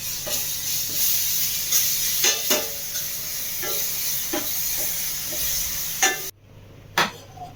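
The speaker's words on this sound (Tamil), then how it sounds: "இது நல்லா பச்சை வாசம் போகிற அளவுக்கு நல்லா வதங்கட்டும்." Ginger garlic paste sautéing in a pan for chicken stir-fry, a steady close sizzle with occasional stirring scrapes and clinks, alone without talk.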